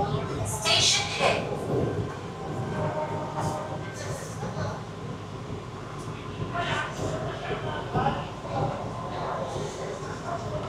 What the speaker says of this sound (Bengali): ট্রেন আমাদের ঢুকছে দমদম জংশন স্টেশন।